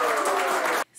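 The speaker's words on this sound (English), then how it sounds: "Round of applause, please." An audience bursts into brisk, dense applause, loud and close, that cuts off abruptly just before the end.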